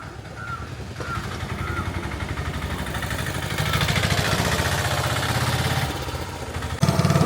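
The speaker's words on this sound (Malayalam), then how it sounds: "നമ്മുടെ എൻജിൻ്റെ സ്റ്റാർട്ടായി. അപ്പോൾ വഞ്ചി എടുത്ത് ഞങ്ങളുടെ യാത്ര തുടങ്ങുകയാണ്." An outboard engine on a wooden boat chugs steadily and loudly, close by, on a backwater trip between Vypin and Kadamakudy in Ernakulam, with a brief change in tone near the end.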